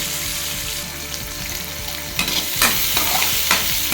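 Onions and green chillies sautéing in a pan, a close sizzle broken by spoon stirring and scraping, with a few sharper clattering stirs toward the end.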